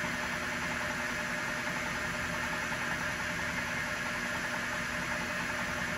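A 3-in-1 mill-lathe combo with a homemade spindle lock fitted runs steadily, making a continuous, even mechanical hum with a high whine. No one speaks over it.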